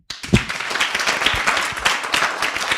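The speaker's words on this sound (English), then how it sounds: "Well done to the crew. Clap for them." A live audience claps for the event crew, breaking into dense, lively applause that starts suddenly and holds steady close by.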